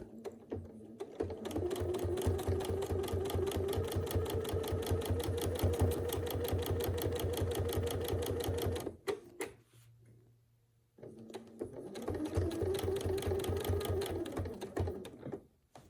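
A sewing machine doing free-motion quilting stitches rapidly and steadily, runs for about nine seconds, pauses briefly, then resumes the same fast rhythmic whir, close and alone.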